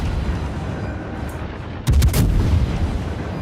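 Naval gunfire in World of Warships: a loud booming salvo hits suddenly partway through, following a quieter stretch of steady low game rumble, with the heavy blast and its tail filling the rest.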